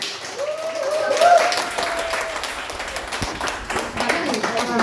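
Close, steady clapping from an audience applauding a speaker at an event, a continuous patter of hands with a voice talking over it.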